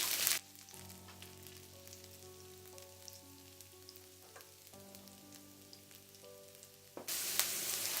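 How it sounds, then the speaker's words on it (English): Chopped ginger and garlic sauté in hot oil, giving a steady, fairly quiet sizzle with a louder burst of frying at the start and again near the end, with no talking. "Add chopped ginger and garlic to the hot oil. Saute them until they are golden brown in color."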